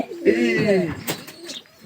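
Newly arrived pigeons coo close by in a loud, throaty burst of rolling calls, followed by quieter murmurs, with someone talking over them.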